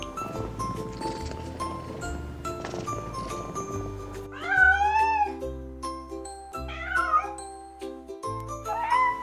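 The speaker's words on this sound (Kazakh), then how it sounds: "Мысық." A domestic cat meows several times, drawn-out rising and falling cries that grow louder in the second half, heard close with faint jingling in the background.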